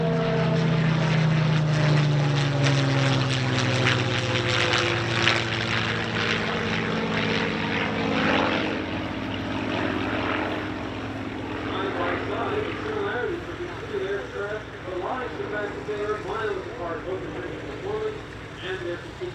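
Bell P-39F Airacobra and P-51D Mustang warbird propeller planes at an air show, a loud sustained piston-engine drone with a shifting pitch as the aircraft pass, and voices talking over it.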